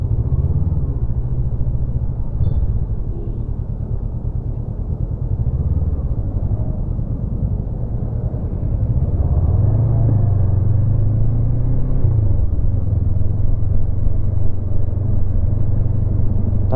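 Heavy road traffic in Bacolod heard from a Honda CB500X motorcycle on the move: a loud, continuous low engine drone and rumble of surrounding vehicles with wind noise, steady throughout, no speech.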